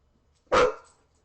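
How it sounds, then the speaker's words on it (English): A single loud, close dog bark, one sharp burst that trails off quickly into near silence, heard from one of two dogs kept in a room. "No barking."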